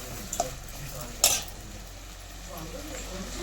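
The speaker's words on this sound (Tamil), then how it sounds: "தக்காளி நல்லா வதங்கட்டும்." Chopped tomatoes sautéing in a pan while cooking fish curry, soft sizzling under occasional scraping and clinks as a spoon stirs, with a sharper metallic scrape partway through.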